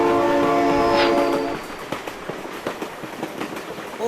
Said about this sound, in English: Oh my god, train!